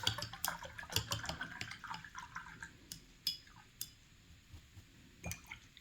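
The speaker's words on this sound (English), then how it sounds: "Cleaning my brush off." A paintbrush is rinsed in a water jar while painting: quiet close clinks and small liquid swishes, a string of short taps and drips that thin out after the first few seconds.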